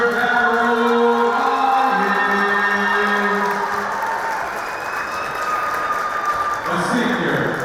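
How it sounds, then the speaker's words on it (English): A crowd at a boys' high school basketball game applauds and cheers the first-place Monsignor Farrell team. A public-address announcer speaks over the loud, sustained clapping, and a brief lull comes before another burst near the end. "a round of applause for your first place team"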